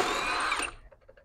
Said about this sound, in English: this hub adapter, has to come off, and Ben's going to do that right now